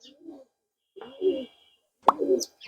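Pigeons make a few short, soft coos in quick succession, close by and fairly quiet, with brief silences between the calls and a sharp tap near the end.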